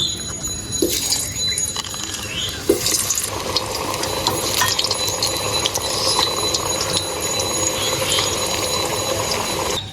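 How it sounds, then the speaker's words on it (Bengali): Potatoes fry in hot oil in a home kitchen while a fish curry is being made, giving a constant close hiss and sizzle with a few clinks and stirring noises over it, and no talking. "তেল গরম হয়ে গেছে আলুটা ভেজে নেব"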